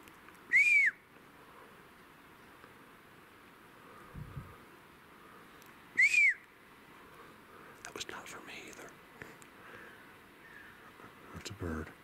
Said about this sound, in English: There's a bird in here that does a whistle